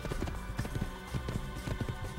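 Horse hooves galloping in the Assassin's Creed video game, a steady clip-clop rhythm running under continuous game background sound.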